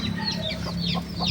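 A chicken clucks in short repeated calls over a steady low hum, close by.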